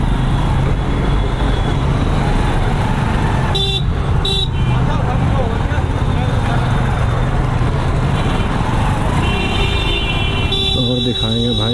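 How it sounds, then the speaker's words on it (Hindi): Dense road traffic outside Sheetla Mata temple in Gurgaon, a constant loud roar of engines with several sharp horn toots breaking through, and someone talking over the din. "आज तो ट्रैफिक बहुत ज़्यादा लगा हुआ है यहाँ पे"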